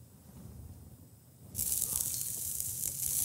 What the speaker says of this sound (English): right in the pan, you get that nice sizzle